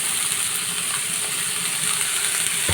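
Cauliflower florets frying in a pan with onions already browned for a spinach and koi fish dish, giving a steady close sizzle with no talk.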